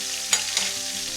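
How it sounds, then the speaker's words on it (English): Steak frying in a hot pan, a steady close hiss of sizzling fat with a couple of sharp spits popping out. "you're cooking steak, it will spit at you."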